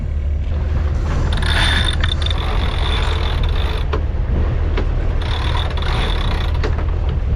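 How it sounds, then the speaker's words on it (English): On a sailboat running under motor, the jib sail unfurls as a winch ratchets and lines creak, steady mechanical clicking over a constant engine drone, no talk. "Jib's going out."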